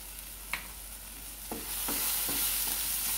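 Vegetables being sautéed with salt in a pan for an Akshaya Tritiya veg thali: a low sizzle with a few distinct spoon knocks and stirs, and the frying hiss grows louder partway through. No one speaks.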